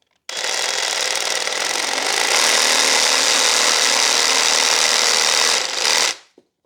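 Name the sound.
battery power tool cutting a dead fig bonsai stub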